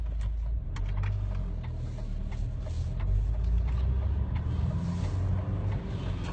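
Steady road noise and low engine drone inside a moving car, a constant broadband rumble throughout with no voices.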